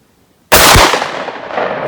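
A 10 gauge shotgun fires a Fury Custom Foster slug on an outdoor range: one sharp, loud blast after near silence, followed by a long ringing decay.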